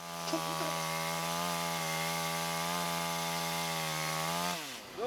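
A powerful chainsaw runs steadily at high speed, loud and close, cutting six-metre pine logs for festival rafts outdoors, with a sustained droning whine that drops in pitch briefly near the end.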